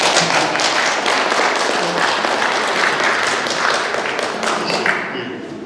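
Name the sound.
audience applause welcoming the film director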